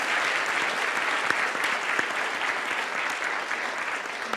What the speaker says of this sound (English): applause, it's always welcome